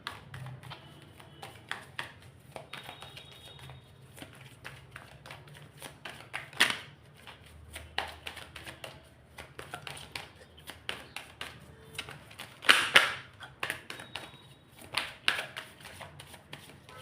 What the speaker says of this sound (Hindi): जब तक मैं शफलिंग कर रही हूँ